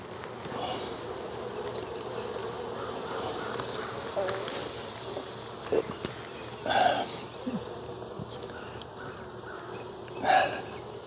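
Honey bees hum around an open hive during a beekeeper's inspection, a soft steady drone with a few louder buzzes passing close, and a person speaking quietly nearby.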